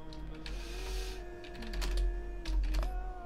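Quick bursts of computer keyboard typing during a Black Desert gaming session, close and fairly quiet, with clusters of keystrokes over a low steady background hum and no talk.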